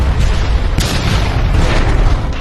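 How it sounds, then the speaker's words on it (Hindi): A loud, heavy boom as a broken airplane wing slams into the ground and explodes, a sharp hit followed by sustained roaring rumble. "पंखा जमीन से जा टकराया और एक भयानक विस्फोट"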